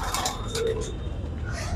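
Pigeons coo softly inside a loft among rustling and a low background hum, the calls faint and overlapping across the short stretch.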